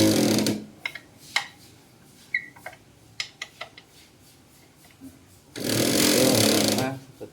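Wrench or Allen key clicks and ratchet-like ticks while loosening bolts on the front stabilizer of a Yamaha Xmax scooter, scattered short taps between bursts of nearby talk.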